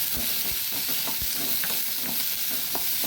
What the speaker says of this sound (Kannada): ಇದು ಸ್ವಲ್ಪ ಹಸಿ ವಾಸನೆ ಹೋಗುವವರೆಗೆ ಇದರಲ್ಲಿ ಹುರಿದುಕೊಳ್ಳೋಣ.